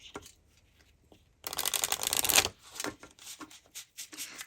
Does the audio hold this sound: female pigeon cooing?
no